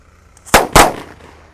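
Two sharp Colorful Thunder firecracker fountain bangs go off in quick succession at night, close and loud, followed by a fading crackle.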